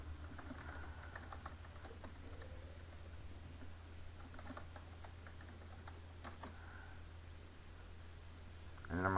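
Keys tapped on a computer keyboard while a password is entered in Zorin OS 6.1 Core, a quiet run of scattered clicks over a steady low hum, close and soft, with no talking.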